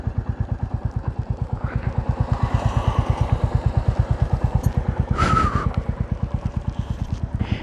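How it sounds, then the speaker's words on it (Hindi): A 2024 Royal Enfield Classic 350 idles close by with a steady, even single-cylinder thump, and a brief metallic clank is heard midway through while it is being parked. "अभी फ़िलहाल तो मैं एक बार उतर के ये बाइक को पार्क करता हूँ"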